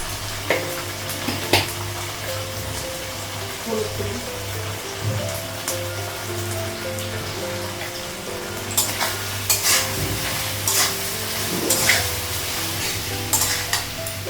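Vegetables fry in a pan with ginger paste and cumin powder, a steady close sizzle under repeated scraping stirs of a spoon against the pan.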